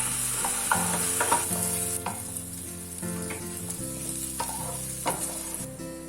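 Garlic butter prawns sautéing in a pan with fresh lemon juice and chili flakes, a steady close sizzle broken by repeated stirring scrapes and clinks, with no talking.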